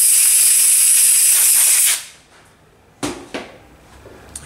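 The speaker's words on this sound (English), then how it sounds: "the compressed air, if you've got it, just give it a little blow" A strong steady hiss of compressed air blown onto a Dellorto carburettor part from a Vortex Mini Rok kart engine, close and loud for about two seconds, then cutting off, followed by a couple of faint knocks.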